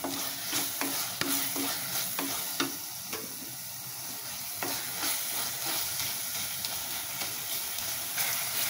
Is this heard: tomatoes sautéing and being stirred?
yes